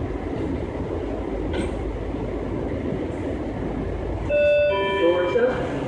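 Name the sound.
metro train doors opening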